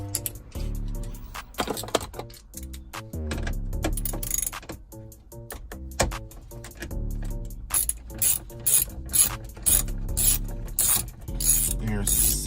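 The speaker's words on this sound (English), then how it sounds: "now we're gonna attach these 7mm screws." Hand ratchet driving 7mm screws while fitting an aftermarket Android touchscreen in a Chevrolet Tahoe dash, with dense rapid clicking in bursts throughout and a brighter, quicker run near the end.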